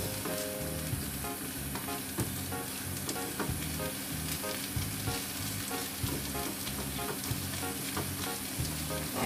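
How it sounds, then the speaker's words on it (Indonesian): Scrambled egg fries in a pan, giving a continuous soft sizzle with light scraping and stirring. The sizzle is fairly quiet and steady, and there is no talking. "Ini kita buat scramble."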